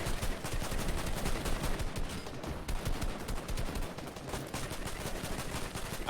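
Dense, continuous gunfire and explosions fill a Fortnite trios match, a rapid barrage of overlapping blasts that stays loud throughout with no pause.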